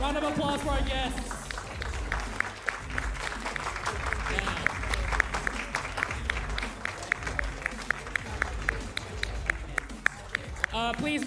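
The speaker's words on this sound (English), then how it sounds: "Special round of applause for our guests." Audience applause for guests at an eFootball championship world finals event, sustained dense clapping from a crowd, loud and continuous with sharp individual claps, while a voice speaks over the start.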